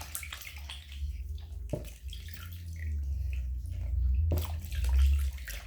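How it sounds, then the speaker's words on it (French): Hands are rinsed under running water after a scrub, a close, low splashing and sloshing with a couple of sharper drips, continuous for several seconds. "Voilà, je rince bien."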